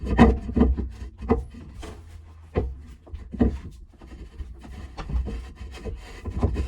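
A sediment water filter housing being twisted tight by hand, with close plastic rubbing and creaking in uneven bursts separated by short pauses.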